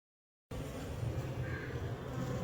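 Honey bees swarm around a large open-air hive, a dense, steady buzzing drone that starts abruptly after a short silence and holds at low volume, close by.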